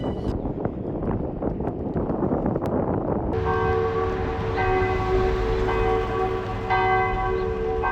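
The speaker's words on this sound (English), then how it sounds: "Something quite soothing about the sound of a church bell ringing." A church bell rings loud and sustained, its tones layered and ringing on with overlapping strikes, following a stretch of heavy noisy rumble with no talking.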